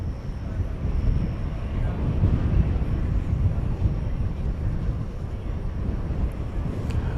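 A Fiji Airways airliner taking off at night on a trans-Pacific flight from DFW Airport, heard as a steady, broad, low jet roar that holds for several seconds at moderate distance.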